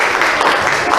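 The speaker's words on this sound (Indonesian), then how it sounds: "Tepuk tangan untuk semuanya dulu." A sixth-grade class in an Indonesian classroom claps hands together for everyone, a brief, dense burst of many overlapping claps filling the room at close range.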